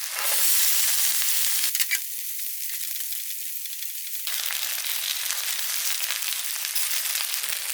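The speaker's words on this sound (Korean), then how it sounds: "가지를 굽습니다. 이렇게 해서 속부터 굽습니다. 이렇게 마늘도 같이 구워줄게요." Steady, loud sizzling of eggplant and garlic frying in a hot pan, a continuous hiss that briefly dips and then returns at full strength.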